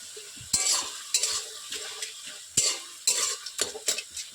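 Cooked water spinach greens are stirred in a pan, heard as several distinct scraping, clattering strokes of a utensil in uneven bursts over a low simmer, close and fairly quiet.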